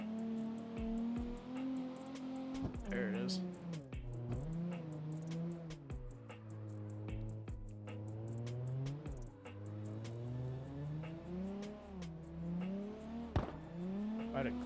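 A 500 horsepower car in the Car X Drift video game revs and slides, its engine note rising and falling in repeated sweeps with gear changes and tire squeal, while a player speaks briefly over it.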